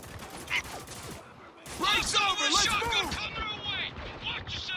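Video game gunfire in Spec Ops: The Line, a burst of rapid shots and crashes in a combat scene, partly under talk from a player and in-game characters.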